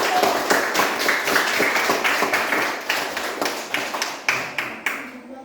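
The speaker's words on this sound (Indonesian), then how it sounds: "Mari kita semua memberikan tepuk tangan untuk kelompok 1." Students in a classroom clap for a group after a math lesson, a lively patter of many hands with some rhythmic unison beats emerging toward the end as the clapping gradually thins.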